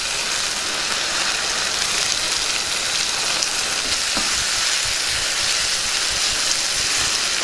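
Tomato pieces sizzle steadily in a pan of curry on the stove, a dense continuous crackle and hiss that stays at an even, fairly loud level without any talking.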